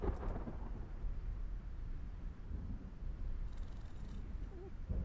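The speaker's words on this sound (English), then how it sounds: "that's a neat rain effect. It really does seem like a driving rain" Steady driving rain in a voxel survival crafting game, a constant broadband hiss that holds at an even level throughout with no one talking.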